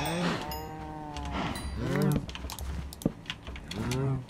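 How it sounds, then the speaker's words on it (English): Several drawn-out cow moos sound in Minecraft, three low bellowing calls spaced through the stretch, with rapid keyboard clicks in the quieter gaps. "And we've got some cows that got out."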